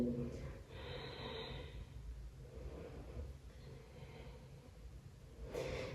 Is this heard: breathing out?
yes